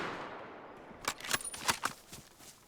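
Rifle shots in the survival game DayZ: a quiet stretch of rustling, then a quick cluster of several sharp cracks about a second in, followed by a few fainter trailing reports.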